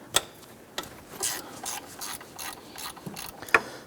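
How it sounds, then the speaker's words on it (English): A ratchet wrench with a 12mm socket clicks in quick bursts while loosening a bolt on the adjuster block of a 2005–2009 Subaru Outback, close up, with metallic ticks and a few sharper knocks. "Using a 12mm socket, go ahead and loosen this bolt on the front of this adjuster block."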